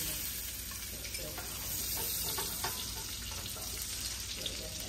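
Onions sizzle steadily in melted butter for a chicken pot pie, a dense continuous frying hiss with faint stirring scrapes throughout, moderately loud and without speech.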